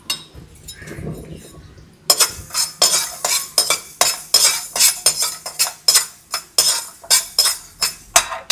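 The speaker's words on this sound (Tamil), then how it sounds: "இப்போ எண்ணெய் சட்டியை போட்டு கடுகு வெந்தயத்தெல்லாம் வறுத்துப்போம்." Mustard seeds and fenugreek roasting in oil in a pan, heard as a rapid series of sharp crackling pops and clinks that start abruptly after a quiet opening and continue steadily, close and fairly loud.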